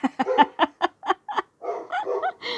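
A dog barks in a quick series of sharp, close yips and woofs at the mailman's noise at the mailbox, then lets out a few whiny, higher-pitched vocalizations.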